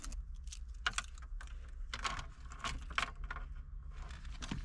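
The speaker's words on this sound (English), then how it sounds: "Good thing the keys are here." Car keys jangling in Fortnite: a close run of light metallic clinks and rattles in short irregular bursts, with brief pauses between the shakes.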